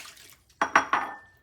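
A cat's water bowl being handled: three quick, sharp clinks close by, each leaving a short ringing tone, in a quiet room.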